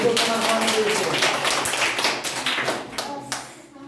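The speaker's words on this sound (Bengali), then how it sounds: "এই ওদের জন্য একবার হাততালি হয়ে যাবে" Classroom full of students clapping for a group, a dense, close round of applause that holds for a few seconds before tapering off, with some voices mixed in.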